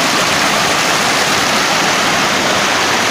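Mountain water rushes loudly in the Ubaye valley near L'Aupillon, a dense, steady, unbroken roar like a cascading stream, close by with no voices.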